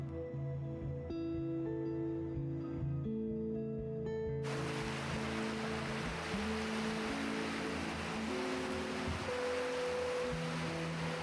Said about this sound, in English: carried on the warm breeze and the gentle sound of waves